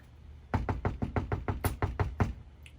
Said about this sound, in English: Give it another knock.